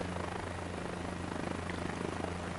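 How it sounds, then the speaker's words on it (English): Helicopter rotor blades chop steadily in Microsoft Flight Simulator, a continuous pulsing drone with a low throbbing hum, faint and even throughout with no talking. "Because I know those helicopter blades can get mighty annoying."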